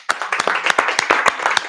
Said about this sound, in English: Just want to give him a round of applause.